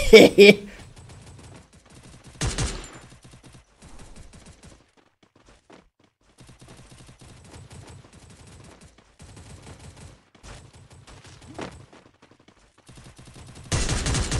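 Sharp bursts of video game gunfire, a burst near the start and a heavy volley at the end, with quieter game sounds and clicks between.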